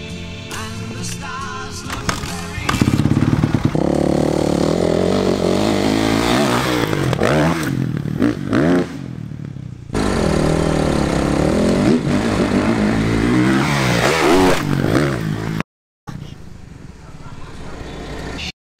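A dirt bike engine revs hard and loud near a homemade jump by a creek, surging and falling through repeated throttle bursts, with talk beneath it and two brief cutouts near the end.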